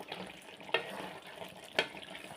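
Green chilli chicken curry frying in a pan gives a steady low sizzle with faint stirring, and two sharp clinks from a spoon against the pan stand out. No one talks over it.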